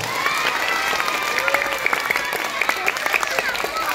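Applause from a crowd at an anti-bullying school assembly, with scattered cheers and children's voices mixed in, steady clapping throughout.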